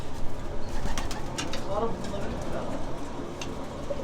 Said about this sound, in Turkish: Erkek hemen ötmeye başladı bakın.